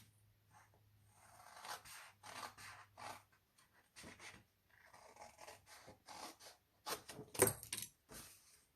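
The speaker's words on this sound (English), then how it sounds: "we're going to take a scissor and just cut straight in on that fold line to the center" Scissors cutting into folded paper card along a fold line, a series of faint, close, crisp snips and rustles in short bursts, louder toward the end.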